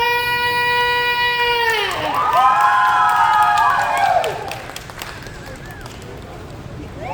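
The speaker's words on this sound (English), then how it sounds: "everybody put your hands together for our very favorite individual, Rick StrongBack!" A small crowd at an oddities expo cheers and claps for a circus strongman taking the stage, whoops and shouts rising over a held musical tone, then thinning into scattered applause.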